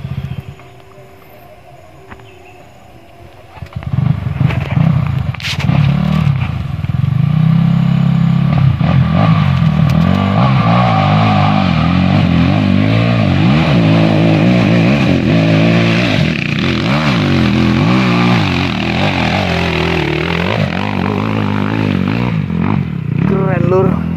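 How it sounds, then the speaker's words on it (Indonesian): Viar 250 SF motorcycle engine laboring on a slippery uphill climb, starting up after a quiet moment and then droning steadily with rising and falling revs, loud and close, with people talking over it. "Ini nyoba motor VR 250 SF."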